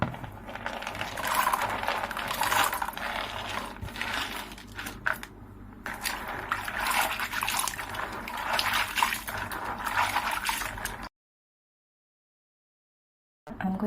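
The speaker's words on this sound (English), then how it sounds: "I'm going to wash them up." Running water rinsing items during home housekeeping, a steady splashing clatter with small knocks of objects for about eleven seconds, then silence.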